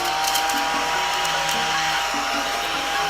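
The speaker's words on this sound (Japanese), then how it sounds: "掃除機買っちゃいました" A small desktop vacuum cleaner sucks up eraser crumbs from a pencil-drawn manga illustration, giving a loud, close, continuous motor whir with a steady high whine and faint rattling pickup throughout, with no talking.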